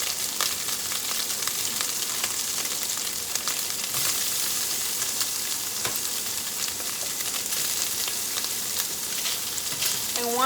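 Sausages fry in a hot pan with a steady, dense sizzle and crackle that holds evenly throughout, close and fairly loud, with occasional faint clinks and no talking.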